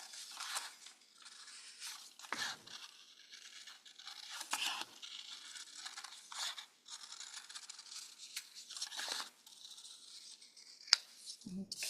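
Scissors cut through paper in a series of short, crisp snips and rustling scrapes, close by and fairly quiet, with irregular pauses between cuts.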